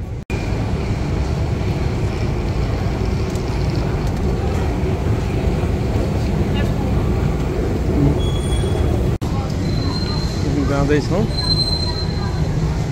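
London Underground tube train running under the River Thames near Westminster, a loud continuous rumble and rattle of wheels with brief squeals, while a voice speaks over it.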